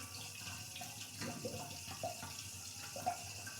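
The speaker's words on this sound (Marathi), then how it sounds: "घालायचं पाणी घालतो" Water runs from a tap in a quiet, steady stream, with a few faint drips and clinks over the flow.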